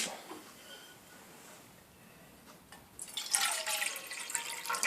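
Water poured out of a small pot and then refilled from a tap during an alcohol stove test, with quiet dripping at first, then a louder steady rush of running water in the last seconds.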